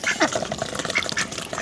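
Laying ducks being hand-fed, giving short raspy quacks and squawks scattered through a busy, close, noisy scene with no clear speech.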